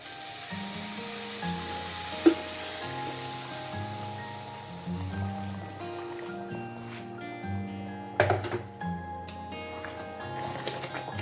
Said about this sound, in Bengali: এবার আঁচটা বাড়িয়ে দিলাম, এবার গরম জলটা দেব।